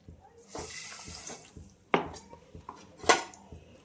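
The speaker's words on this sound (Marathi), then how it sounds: "1 कप साखरेसाठी 1 कपच पाणी घालून घेऊया।" Water poured into a pan holding a cup of sugar to start a syrup, with pouring splashes and a few clinks of utensils against the pan, close and fairly quiet.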